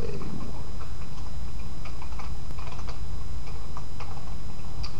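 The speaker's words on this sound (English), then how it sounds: "then I'll type my response" Keys tapped on a computer keyboard in an irregular run of soft clicks, close and fairly quiet, with no voice over them.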